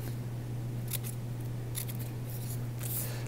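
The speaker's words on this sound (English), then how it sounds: "I'm going to cut these little snips in it." Scissors snip through a paper strip in several quick, close cuts spaced across the moment, crisp against a steady low hum in a quiet room with no talking.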